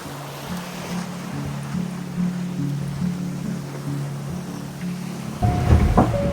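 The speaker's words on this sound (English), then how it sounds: "Pretty impressive waves when I look out the window." Ocean waves roar and surge steadily around a racing sailboat on the open sea in high winds, with a constant low rumble of hull and water that swells into a louder crash near the end.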